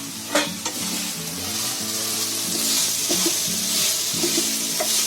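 Chicken for a malai sandwich fries hard on full heat in a pan, a loud continuous sizzle close by with repeated scraping and clinking as it is stirred, no voices.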